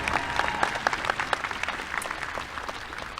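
Clapping bursts from an audience at a junior high graduation honoring American Legion Award recipients, with moderately loud, continuous applause made up of many distinct hand claps.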